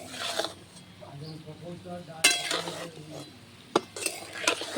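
Potato, greens and tomato are stirred and fried in a pan, with close metallic scrapes and clinks of a spatula over a faint sizzle, the louder strokes coming irregularly.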